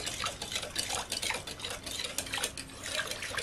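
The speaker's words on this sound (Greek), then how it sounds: "2 φακελάκια ξερή μαγιά. Ανακατεύουμε." Dry yeast being stirred into a sweet lagana dough mixture in a bowl, a steady run of soft scraping and light clinking of utensil against the bowl, close and continuous with no talk.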